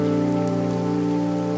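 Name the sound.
rain falling on a street cart, cartoon sound effect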